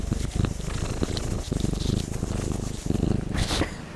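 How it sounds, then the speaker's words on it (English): A kitten purrs loudly right against the microphone, a rough rhythmic rumble with soft breathy sniffs in between as it sniffs the microphone. "My kitten is purring in my mouth and sniffing on my microphone."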